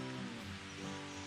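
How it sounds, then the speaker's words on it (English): Steady rain falls on the huge trees of a forest trail at Ha Ha Tonka State Park in the Ozarks, a soft, continuous hiss with no distinct drops. "It's raining pretty good, at least it sounds like it is."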